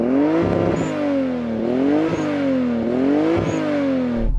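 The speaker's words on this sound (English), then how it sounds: "And now the Toyota Supra." A Toyota Supra engine revs in three evenly spaced surges, each rising and falling. The sound is loud and close, with no talking.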